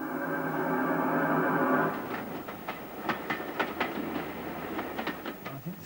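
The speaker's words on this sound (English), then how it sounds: "all sorts of trains screaming through them" A steady mechanical hum gives way to rhythmic clattering of a steam train passing over rails, a series of sharp clicks and knocks at moderate distance.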